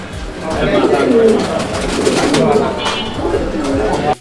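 Pigeons coo repeatedly at close range in a pigeon market, soft throaty calls rising and falling over the length of the clip, with someone speaking over them.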